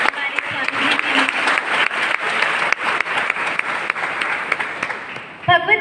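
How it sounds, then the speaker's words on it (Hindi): Loud, sustained applause from an audience honouring a swami at a Geeta Karmayog programme, a dense steady wash of clapping that holds for several seconds before tapering at the end. "तो एक बार जोरदार तालियां हो जाए हमारे स्वामी जी के लिए।"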